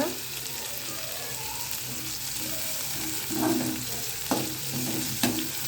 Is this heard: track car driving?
no